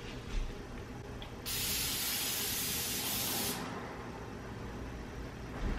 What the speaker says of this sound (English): I'm going to grease my pan.